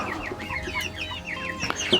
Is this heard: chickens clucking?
yes